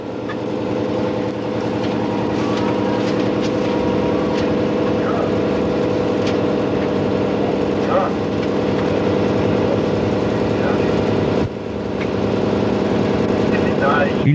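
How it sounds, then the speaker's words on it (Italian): A Gailtalbahn regional train in Austria picks up speed, heard from the cab as a steady, loud motor hum and rumble with rolling wheel noise and occasional clacks, and no talking. "Il treno prende velocità ed esce da Keschermouten"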